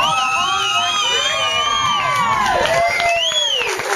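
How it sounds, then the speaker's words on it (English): A crowd cheers and whoops for a performer called Bubbles at a live show, with shouted calls and some light clapping. Sustained tonal sounds weave through the loud, continuous crowd noise. "Let's give Bubbles another round of applause."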